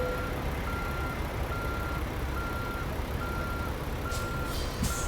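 A truck's reversing alarm beeps in a steady, evenly spaced rhythm while it backs the full length of a yard in American Truck Simulator, over a constant low engine rumble, with a brief air hiss near the end.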